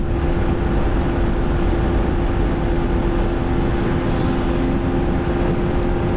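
Yamaha FZ1N motorcycle with an R1 engine under way on the road, a loud, constant engine drone with a faint whine and wind rush throughout.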